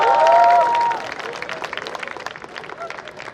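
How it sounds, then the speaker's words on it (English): Audience applause at a college cultural event, a burst of clapping from a crowd that rises under a fading voice and then thins into scattered claps and murmur. "Let's have a huge round of applause."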